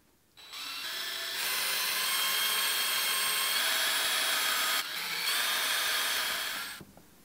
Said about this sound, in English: Even though I use the electric mixer, I still like to scrape down my sides and the bottom just to make sure it's all mixed thoroughly.